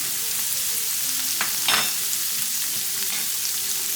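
Flour is stirred into chorizo frying in plenty of oil, with a steady close sizzle and a brief scrape of the spoon partway through.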